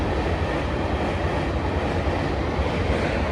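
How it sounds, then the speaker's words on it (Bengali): A passing train makes a steady, loud rumble with a dense broadband roar and no breaks, close by and continuous across the short stretch, with no voices. "আর গাইস দেখো এদিক দিয়ে তো ট্রেন যেই যাচ্ছে।"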